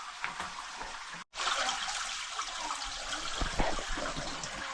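A hot-water shower runs in a home bathroom in Taiwan, a steady broadband hiss of spray that cuts out for an instant, then resumes with splashing variations, close and fairly loud, with no talking.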